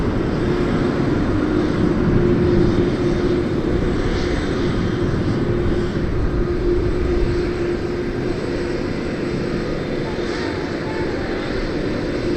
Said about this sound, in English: We're about to get photobombed by an MD-11